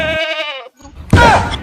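A goat gives a loud, close, quavering bleat, followed by a short pause and then a rougher, harsher second cry.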